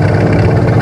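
A Panzer IV tank engine in the video game Arma 3 rumbles in a steady, loud, low drone, close and unbroken throughout.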